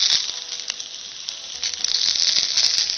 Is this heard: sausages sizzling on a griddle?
yes